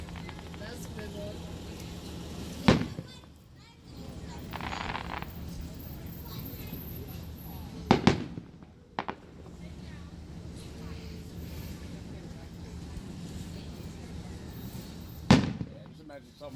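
Three fireworks bangs, the middle one a quick double crack, pop over the Syracuse Nationals grounds amid a constant crowd hum and breezy outdoor noise.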